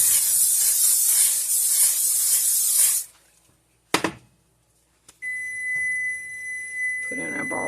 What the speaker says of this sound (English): I'm going to spray down the bowl.